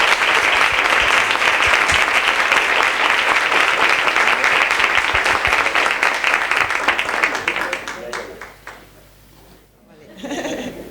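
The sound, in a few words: audience applause welcoming author Luz Gabás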